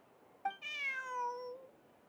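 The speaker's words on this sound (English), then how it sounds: "Aw, this cat is cute." Cat meowing in Genshin Impact, a single clear drawn-out meow with a falling tone after a brief click, close and alone over a quiet background.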